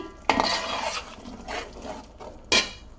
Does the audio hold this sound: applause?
no